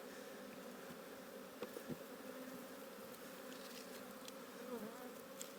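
Honey bees in an opened hive that has just swarmed make a dense, steady buzz close by, with occasional soft bumps of frames being handled.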